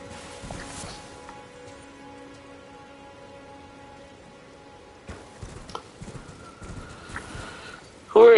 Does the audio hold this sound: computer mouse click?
no